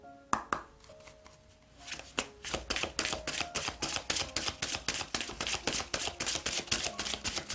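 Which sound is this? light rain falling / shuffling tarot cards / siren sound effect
shuffling tarot cards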